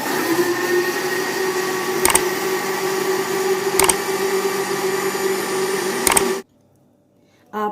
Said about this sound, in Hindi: आपने दही को ना थोड़ा ही ब्लेंड करना है